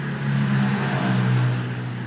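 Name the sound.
Toyota Avanza car engine started and switched off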